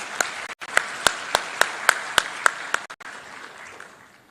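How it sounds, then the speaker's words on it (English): Audience applause at a formal event welcoming the Chief Minister of Andhra Pradesh as guest, heard as a series of sharp, evenly spaced loud claps over a steady clapping wash that fades toward the end. "Please welcome with a round of applause."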